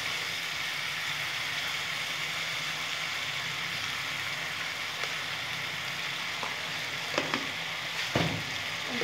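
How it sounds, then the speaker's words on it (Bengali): Taro frying in a pan with turmeric and salt, a steady, dense sizzle running throughout, with a few faint clinks of stirring near the end. "হলুদ দিয়ে ভালো করে ভেজে নেব।"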